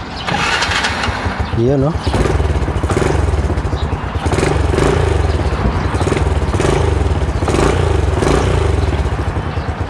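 Motorcycle engine cranking and catching, then roaring loudly and revving close up, with people talking over it.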